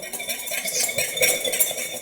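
Lemon juice and salt whisked in a bowl for a salad dressing, a quick, continuous run of close metallic clinks and rattles.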